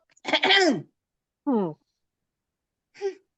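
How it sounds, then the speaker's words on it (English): Three short throaty bursts, the first loudest and longest, then two briefer ones after pauses, close to the mic with no talking. "Clear your throat."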